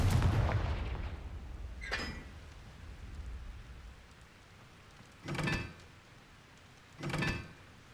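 A Confringo spell blast fires in a Harry Potter video game: a loud booming burst at the start fades into a rumbling tail, followed by three sharper crackling bursts spaced a few seconds apart.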